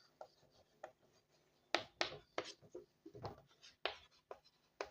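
Chalk or marker on a board during a biology lecture on the cell, making scratchy, irregular strokes and taps in quick clusters, close and fairly quiet.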